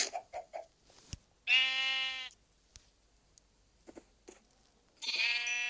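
Two loud, drawn-out Minecraft sheep bleats, separated by a few seconds of faint clicks and small sounds.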